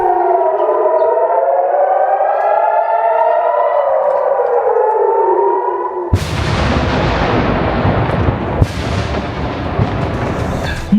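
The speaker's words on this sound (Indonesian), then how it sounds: "Hampir setiap 10 menit sekali sirine berbunyi, pertanda mereka harus segera berlari ke tempat perlindungan." A wailing civil defense air raid siren in Kiryat Shmona, northern Israel, rises and falls loudly, then gives way to heavy booming blasts and rumbling, with sharp cracks near the end.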